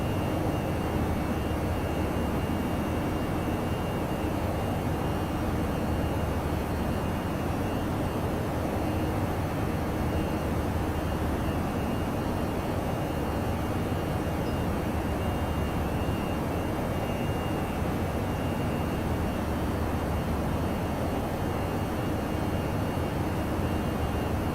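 A simulated airliner approaches to land in X-Plane 11, its engines a steady, dense roar and whine that holds constant throughout with no speech or other events.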